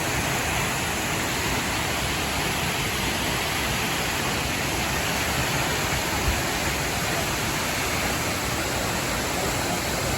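A waterfall at Paul do Mar, Madeira, pours in a steady, unbroken roar of rushing water, constant and loud throughout with no voices.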